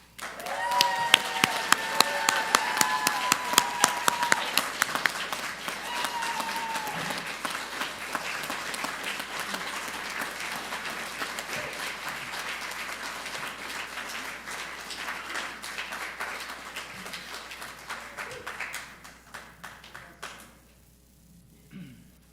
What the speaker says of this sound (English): Let us celebrate these dedications with one last round of applause